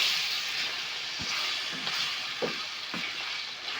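Wild meadow mushrooms frying in a pan, a continuous close hissing sizzle with a few soft scrapes and pops from stirring, moderately quiet and without speech.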